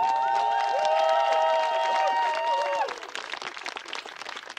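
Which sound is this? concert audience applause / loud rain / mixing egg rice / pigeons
concert audience applause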